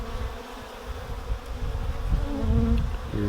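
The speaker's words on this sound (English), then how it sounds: "Those are bees in there." Honey bees buzz around an open hive during a package queen check, a dense, steady hum close by with no talking.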